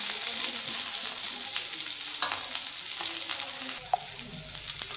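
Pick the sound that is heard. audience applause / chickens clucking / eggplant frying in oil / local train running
eggplant frying in oil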